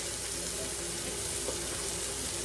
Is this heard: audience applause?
no